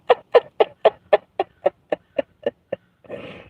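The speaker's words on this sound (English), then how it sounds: "Birds." Birds give a run of about eleven sharp, evenly spaced clucking calls that gradually soften, followed by a short burst of rustling noise. The calls are clear and fairly close, with no talking.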